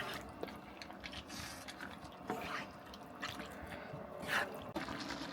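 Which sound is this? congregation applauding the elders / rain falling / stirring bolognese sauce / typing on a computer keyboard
stirring bolognese sauce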